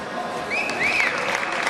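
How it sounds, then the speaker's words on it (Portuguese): A gymnastics arena crowd applauds mid-routine at a World Challenge Cup, a broad wash of clapping and crowd noise with a rising whistle cutting through it. "A torcida aplaude no meio"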